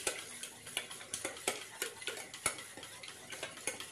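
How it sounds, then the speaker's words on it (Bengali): Beaten egg batter seasoned with ground pepper is whisked briskly in a bowl, giving a steady run of quick, light clicking taps, close and fairly quiet. "এটা ভালো করে গুলিয়ে নেব।"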